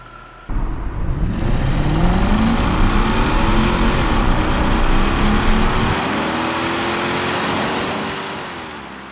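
A supercharged 4.2-litre AJ33S V8 in a 2003 Jaguar S-Type R starts up and runs loud and close, a steady whirring roar with rising rev sweeps that fades slightly at the end.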